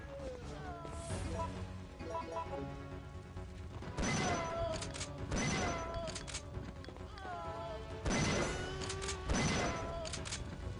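Gunfire from Resident Evil 3 as a zombie is taken down in a newspaper office hallway: three loud bursts of shots land about four seconds apart, each over steady game music and effects.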